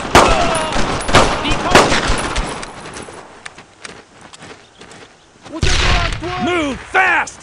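Bursts of machine-gun and rifle fire in a World War 2 squad shooter game, loud, rapid and rattling, easing off midway and then returning with heavier shots while soldiers shout over it.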